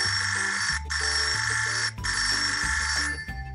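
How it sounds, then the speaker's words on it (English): A telephone ringing loudly and close, two long bursts of a bright electronic ring separated by short breaks. "this is the sound of a telephone"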